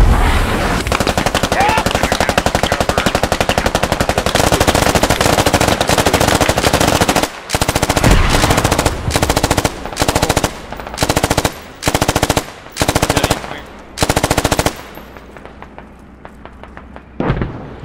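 Sustained machine gun fire in a video game, loud and close, pouring out in a long unbroken stream and then breaking into repeated short bursts separated by brief gaps.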